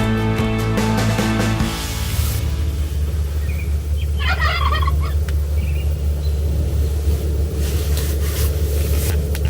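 A wild turkey gobbler calls loudly with a rippling gobble outdoors on a farm during a spring hunt, one clear burst over a low steady rumble.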